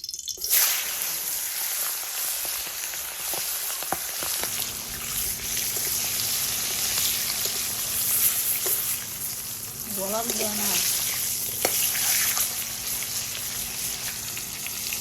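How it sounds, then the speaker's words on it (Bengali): A whole rooster rubbed with turmeric, chili and salt frying in hot oil in a wok, giving a soft continuous sizzle with occasional pops and stirring sounds at low level. "আমাদের মোরগটা কিভাবে ভাজা হইতেছে"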